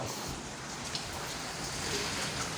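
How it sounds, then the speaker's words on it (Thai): Steady rain falls with a soft, even patter and hiss, moderately quiet and continuous. "ฝนตก"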